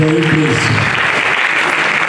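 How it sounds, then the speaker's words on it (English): Audience at an annual international conference breaks into applause, a full, steady wash of clapping. A speaker's voice fades out under it at the start. "Please, another round of applause for him, please."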